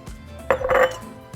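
Salad tossed with dressing in a bowl, heard as a brief cluster of close clinks and scrapes of utensils against the dish.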